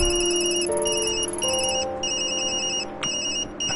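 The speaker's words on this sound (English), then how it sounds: "That's my phone." Mobile phone ringing with a bright, repeating electronic ringtone in rhythmic bursts, loud and close, playing steadily for several seconds with no talking over it.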